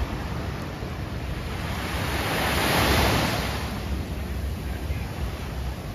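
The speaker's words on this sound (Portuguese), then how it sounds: "Ondas agitadas, olha. O mar agitado, né, no caso." Rough, churning sea waves break at Praia das Castanheiras beach in Guarapari, a steady broadband surf roar with gusts of wind noise on the microphone, swelling slightly mid-clip, with no voices.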